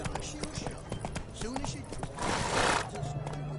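The horse Roach galloping in The Witcher 3: Wild Hunt, rhythmic clip-clop hoofbeats in quick succession under game music and dialogue, with a swell of rushing noise midway.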